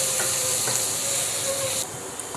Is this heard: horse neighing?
no